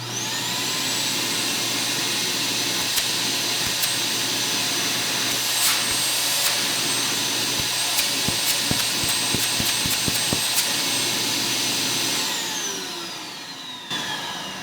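A shop vacuum in a garage pulls air through a 35-foot hose, a loud steady roaring hiss that runs continuously with brief clicks and rattles, then tapers off near the end.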